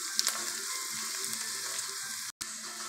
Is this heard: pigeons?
no